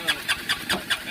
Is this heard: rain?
no